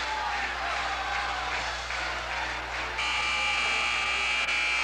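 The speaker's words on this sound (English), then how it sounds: "The buzzer sounds" A loud, sustained electronic arena buzzer blares over a murmuring crowd at a sub-state championship game, continuing steadily to the end.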